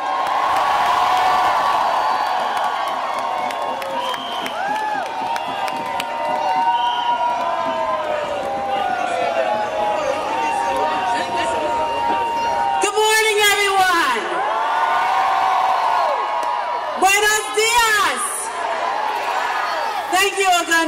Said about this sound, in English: So I want you guys to give you a round of applause for your city's First Lady